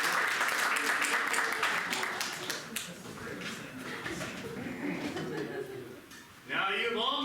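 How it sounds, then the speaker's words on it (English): A theater audience at an adventure-serial stage show claps in a dense burst of applause that gradually thins, and a voice breaks in near the end. "Let's hear a big round of applause for this."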